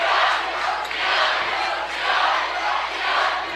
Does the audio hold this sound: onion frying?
no